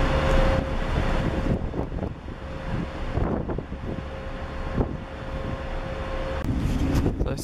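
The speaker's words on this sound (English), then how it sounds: "So it's a bit windy" Wind buffets the open deck of a P&O cruise ship, a loud, steady roar of rushing air with gusty surges and microphone rumble and no voices.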